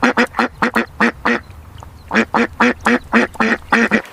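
Commercial farm ducks quacking loudly and close by, a rapid series of sharp, nasal quacks in two bursts separated by a brief pause, about eighteen calls in all, with no talking.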